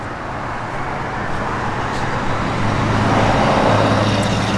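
A 1977 Pontiac Trans Am on BF Goodrich Radial T/A tires and 15-inch factory aluminum wheels cruises down the road in light rain, giving a steady, close rumble of road and engine noise that swells slightly toward the end.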